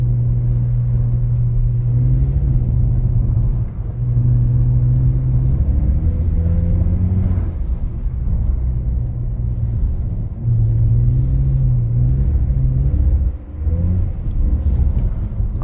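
A BMW E46 rear-wheel-drive car drifting on a snowy, icy switchback road: a loud, steady engine drone heard from inside the cabin, rising and falling as the throttle changes, with no talking.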